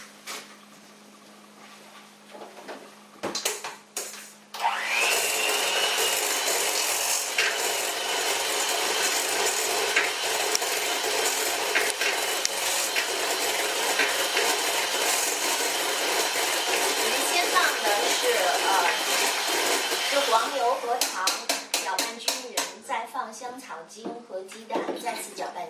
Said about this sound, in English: I'm going to crack them and put them in here and then use the mixer again